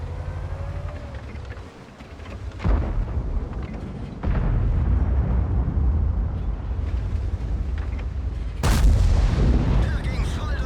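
In World of Tanks, a Tiger Maus fires its tank cannon in booming blasts, the shots spaced several seconds apart and followed by rumbling engine and battle noise.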